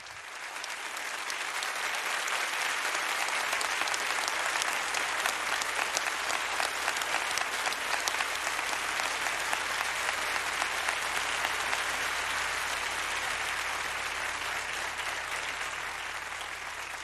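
A concert audience applauds a singer's entrance on a TV impersonation show, a dense, sustained wave of clapping from a large crowd that swells in and holds steady for the whole stretch.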